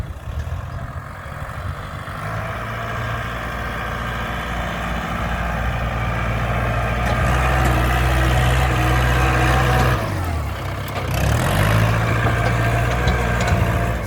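A heavy diesel tractor engine runs steadily and close by, with a deep low rumble that dips briefly and then picks back up.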